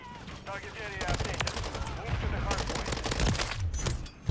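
Rapid, dense automatic gunfire from the Minibak in Modern Warfare 3, a sustained loud burst of shots with scattered effects in the background.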